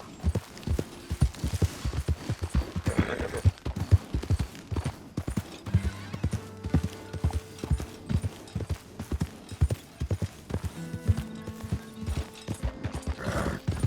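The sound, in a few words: horse hooves in video game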